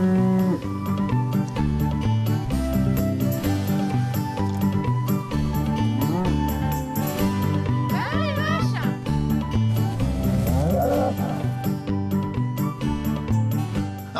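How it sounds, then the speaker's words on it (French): Scottish Highland cattle low at the Parc Animalier de Sainte-Croix, their drawn-out moos rising over a dense, continuous background of other sound. "je vais m'aventurer sur le territoire des vaches écossaises"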